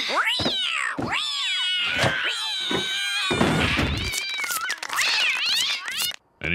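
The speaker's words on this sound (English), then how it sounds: "The cat goes in right here." A cartoon cat meows repeatedly inside a closed box, loud and close, with rising and falling yowls that stretch into caterwauling, ending in a brief thud.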